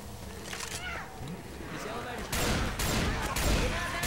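Rapid gunfire rattles through a Left 4 Dead 2 match as zombies are shot, with a dense burst of shots swelling louder toward the end over game sounds and voices.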